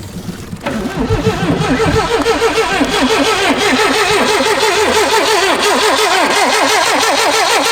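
A Lotus car cranks near a parked lot, its starter churning in a fast rhythmic whir as the engine misfires on one cylinder, loud, close and continuous with no one talking.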